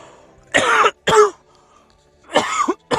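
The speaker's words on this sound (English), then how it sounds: "sorry about coughing into the mic like that" Several loud, close coughs and throat-clearing bursts during a game commentary recording, in three or four short harsh bursts with brief silences between them, right against the microphone.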